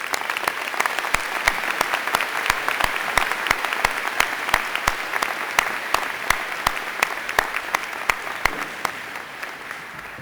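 A crowd at a University of Winnipeg spring convocation ceremony applauds warmly, a dense, sustained wash of clapping with crisp individual claps, steady and loud throughout with no break.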